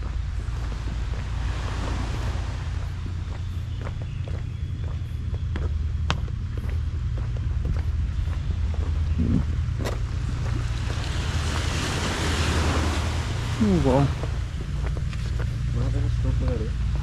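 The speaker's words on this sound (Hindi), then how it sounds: "समुंदर पानी आ रहा है यहाँ पे" Sea waves wash continuously onto the shore at Ross Island near Port Blair in the Andamans, a constant surf roar with wind noise, briefly under a few people talking.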